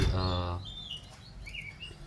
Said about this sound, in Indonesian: kenari berantem itu biarkan saja